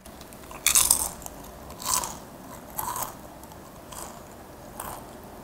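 Crisp, crackly bites into seaweed rice crisps, about five separate crunches spaced roughly a second apart, close to the mic with no talking.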